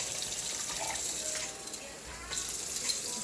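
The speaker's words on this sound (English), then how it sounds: "Rinse them off with cold water to take off all that sodium" Cold tap water runs steadily into a sink as canned food is rinsed to wash off salt, a continuous close splashing flow with small shifts in tone.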